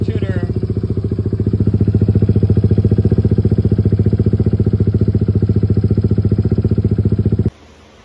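A Kawasaki Z125 Pro motorcycle fitted with a 143cc big bore kit idles close by with a loud, even, rapid thumping that holds steady for several seconds and then cuts off abruptly near the end.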